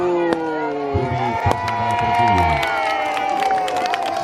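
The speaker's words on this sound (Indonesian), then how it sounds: "Ya, tepuk tangannya." At an Indonesian Air Force combat display at an Aceh airport, a crowd cheers and shouts with scattered clapping, the voices rising and overlapping in a short burst.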